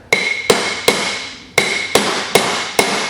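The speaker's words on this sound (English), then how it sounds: "Way better than my sloppy hammer banging." Sharp metallic hammer blows drive a wheel bearing into its housing, seven loud ringing strikes at an uneven pace with short decaying tails between them.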